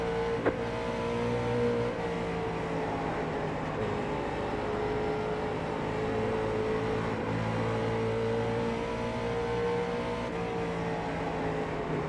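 Late model and super late model stock cars racing at Bristol in a racing video game, a steady droning engine roar with whining tonal harmonics held at constant pitch for the whole stretch, no talk over it.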